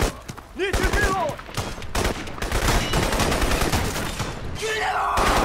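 Gunfire in the shooter game Crysis 2: loud, rapid bursts of automatic weapon fire crackle almost without pause, mixed with shouted in-game voice lines.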